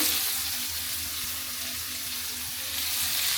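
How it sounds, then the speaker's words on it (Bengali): Cauliflower pieces fry in hot oil in a home kitchen, giving a constant close sizzle with faint soft knocks and stirring underneath, and no one speaking. "আমার ফুলকপি ভাজা হয়ে গেছে এই যে তুলে নিচ্ছি"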